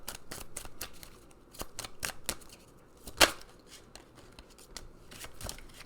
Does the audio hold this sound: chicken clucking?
no